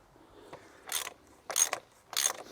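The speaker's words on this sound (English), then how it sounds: "let's get this oil filter cap cracked off" A ratchet loosens the oil filter cap on the underside of a BMW E92 335i, giving three short, close clicking bursts separated by brief pauses.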